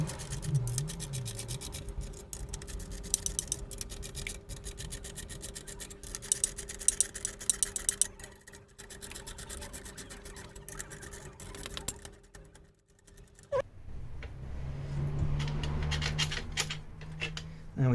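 A coil spring compressor on a Fiat 500 front strut is backed off bit by bit, with repeated close ratcheting, scraping and rasping clicks in rapid irregular bursts. A quieter low rumble follows near the end.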